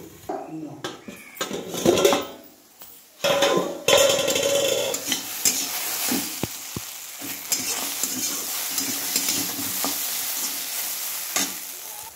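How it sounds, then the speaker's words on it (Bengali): A fish head frying in oil in a pan is stirred and partly covered, with sizzling, scraping spatula strokes and clattering lid and utensil knocks, close and irregular. "এটা আমি হালকা হালকা করে ঢেকে রাখবো আর একটু করে নাড়বো।"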